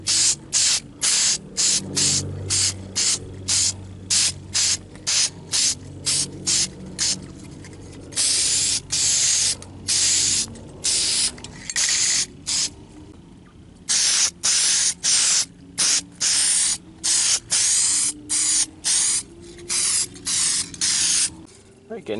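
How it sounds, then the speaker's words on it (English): An aerosol can sprays hammered black paint onto the AC vents of an Explorer Sport Trac interior, with many sharp close hissing bursts, short and rapid at first, then longer spaced passes. "Ready to paint the AC vents."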